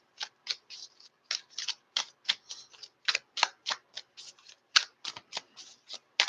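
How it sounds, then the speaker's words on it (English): Tarot cards are shuffled close up in quick, crisp riffling bursts, a run of short papery flicks and slaps in an uneven rhythm, with no one speaking. "Don't even feel like I'm done shuffling."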